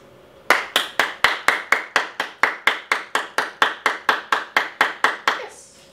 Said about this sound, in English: 5 seconds while I clap my hands